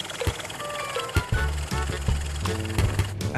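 A car engine with a misfire runs unevenly, its low hum broken by irregular thumps and stumbles over a few seconds, close and fairly loud.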